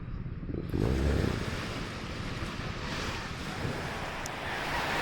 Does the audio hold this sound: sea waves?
yes